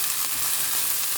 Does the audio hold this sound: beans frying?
yes